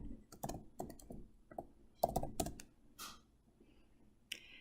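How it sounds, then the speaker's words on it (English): Quiet typing on a computer keyboard, a short run of soft, irregular key clicks at close range, with a few brief louder taps. "Type in any keyword into the search box."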